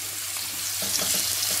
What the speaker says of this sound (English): That is why I'm searing my fish